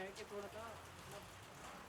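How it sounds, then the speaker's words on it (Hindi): Heavy rain falls steadily at Yamunotri in the Himalayas, a continuous dense patter on surfaces with faint voices murmuring underneath throughout the short stretch. "कड़ाके वाली बारिश हो रही है"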